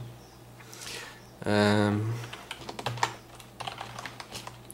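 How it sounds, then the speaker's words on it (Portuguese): A username typed on a computer keyboard during a Linux openSUSE Leap 42.3 install, with rapid close key clicks that come in bursts, broken by a brief loud tonal sound near the start while someone speaks softly. "Vou digitar aqui, deixa eu ver se eu consigo."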